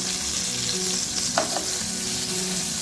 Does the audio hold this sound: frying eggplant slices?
yes